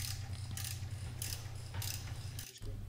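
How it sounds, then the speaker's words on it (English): A ratchet wrench clicks in quick repeated bursts while tightening the front fender bolts on a Suzuki V-Strom 650 during a SuperBrace install, with soft close-up mechanical rattling between the strokes. "replace the four bolts, two on each side, and tighten these back to factory torque spec"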